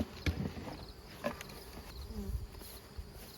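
Honey bees hum and buzz around an opened hive, a soft steady drone with a few louder passes as single bees fly close to the microphone.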